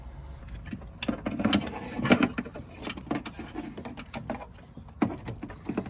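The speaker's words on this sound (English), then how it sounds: "So I put the window down all the way, at least the regulator is down all the way." A rear door window regulator on a Toyota 4Runner runs the glass down, giving a close, uneven mechanical whirring and ratcheting with small clicks and rattles that rise and fall over several seconds, with no talk.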